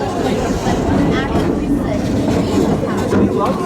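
Serengeti Express train ride at Busch Gardens, with a steady rumble of the moving train and rolling rail clatter throughout, loud and continuous beneath a guide's narration.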